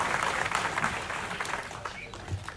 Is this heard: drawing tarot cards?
no